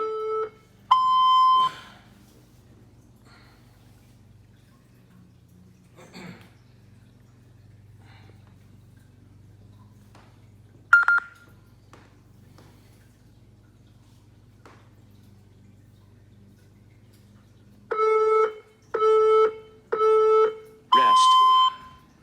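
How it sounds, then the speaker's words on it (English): A Tabata workout timer beeps during an at-home core session: a lone loud electronic beep near the start, then a tight run of four evenly spaced, sharp beeps close to the end, with faint background hum between. "We're gonna get the Tabata timer going"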